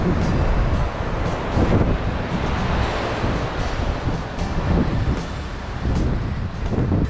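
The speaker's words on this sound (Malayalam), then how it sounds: "തിരമാലകൾ എനിക്ക് അടിച്ച് കയറി വരികയാണ്" Ocean waves breaking on an Australian beach, a continuous loud roar of surf mixed with heavy wind buffeting the microphone and no voices heard.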